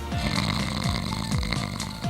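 A man's heavy, rattling snore fills the stretch continuously, loud and close, with rhythmic low pulses and no talk.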